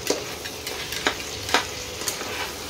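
Crab claws stir-fried in a spice masala, a continuous sizzle broken by several sharp scrapes and clatters of a spatula against the pan.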